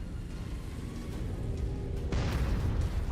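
An artillery emplacement blowing up in the MechWarrior 5 video game, Shadow of Kerensky DLC: a rumbling low boom builds and then bursts into a louder explosion with a noisy crackling tail.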